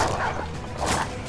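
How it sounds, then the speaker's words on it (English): A war dog in a video game lets out a couple of short yipping barks, close and loud over a steady game background. "Drake the War Dog from downtown, takes out the Conqueror just like that"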